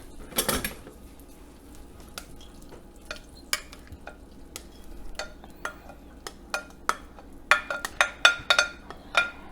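Mushrooms, onions and green onions tumble into a venison stroganoff pan, giving a burst of sizzle followed by a run of sharp spoon clicks and scrapes against the pan that quicken toward the end.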